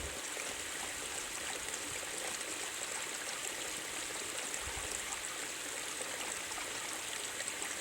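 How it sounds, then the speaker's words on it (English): A creek flows steadily at a backpacking stop while a dog drinks from it, giving a constant broadband rush of running water with no clear lapping and no voices. "getting him a drink out of the creek."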